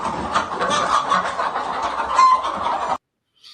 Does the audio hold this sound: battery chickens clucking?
yes